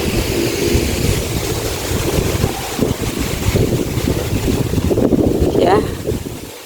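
Strong wind buffets the microphone outdoors near water, a steady broadband roar with gusting rumble throughout, while a voice speaks faintly beneath it.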